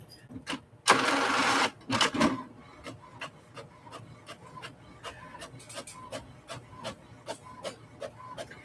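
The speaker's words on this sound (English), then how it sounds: "I'm just printing this on printer paper." Printer printing on printer paper at home: a burst of mechanical whirring and a paper-feed rasp, followed by a regular series of clicking, ticking print-head strokes with soft motor hum, close and moderately quiet.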